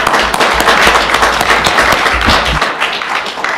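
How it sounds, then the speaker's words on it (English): An audience at a legislative cracker barrel event claps in a loud, dense burst that holds steady for a few seconds before easing slightly, with some sharp low thumps mixed in. "How about a round of applause for Dean Fulton?"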